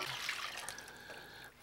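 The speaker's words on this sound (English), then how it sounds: "then add more water." Water poured into a soup pot during cooking, a faint soft splashing trickle with a thin ringing tone, steady then tapering off at the end.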